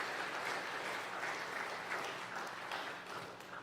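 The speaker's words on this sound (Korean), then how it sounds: "김치환 장로님, 오돈희님, 오수희님 한번 자리에서 한번 일어나시면 우리 박수로 환영하겠습니다" A church congregation applauds to welcome guests at an anniversary service, a steady, moderately quiet patter of many hands that carries on throughout without speech.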